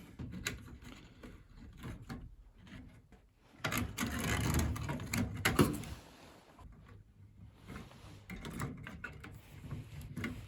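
A heating element is worked loose and removed from a Beko tumble dryer, giving close clunks, metallic rattles and scraping handling noises, with one longer stretch of rubbing and shuffling in the middle.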